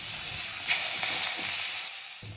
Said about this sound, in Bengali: চিংড়ি মাছে নুন হলুদ মাখিয়ে আমি ভেজে নিচ্ছি